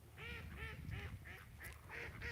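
Ducks on a tarn give a run of about seven quacks in a steady, even rhythm, moderately close and fairly faint, against a low background rumble, with no talking.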